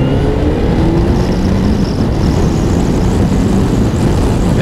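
A Honda CBF 1000 motorcycle engine pulls hard through the gears up to about 70 mph on a cold morning, a loud continuous rumble and roar with wind noise, heard from the rider's position.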